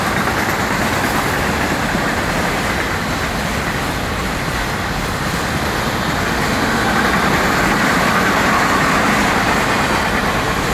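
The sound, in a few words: FEC freight train passing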